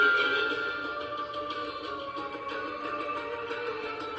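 Joker sound font on a Prizm soundboard lightsaber giving a steady electronic hum with buzzing harmonic tones, fairly loud and continuous throughout, with no talking.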